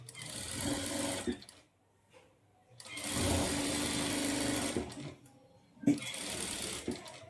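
A sewing machine stitches a blouse lining onto the main fabric in three bursts of close, whirring mechanical running, separated by short silent pauses.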